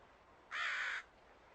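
A single harsh, raspy crow caw rings out for about half a second against a quiet outdoor background.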